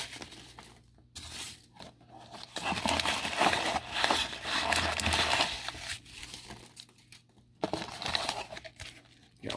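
A wax box of football trading cards being opened by hand, with close, continuous crinkling and tearing of cardboard and wrapper in several busy bursts separated by brief pauses, and no speech.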